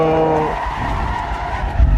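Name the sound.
car tires skidding while spinning out in the video game Assetto Corsa EVO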